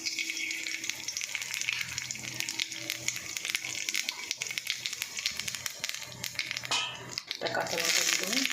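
Nigella seeds sizzle in hot mustard oil in a wok, a bright crackling hiss with spattering pops and a stirring scrape near the end, while someone talks over it.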